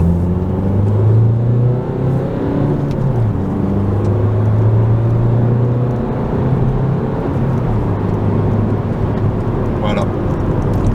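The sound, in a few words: Opel Astra K 2018 car accelerating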